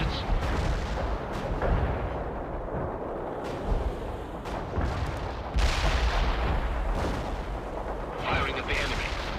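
Soviet units in World in Conflict open fire on the enemy, a dense barrage of booming artillery and gunfire rolling steadily through the whole stretch, with heavier blasts swelling midway and faint voices mixed into the battle noise.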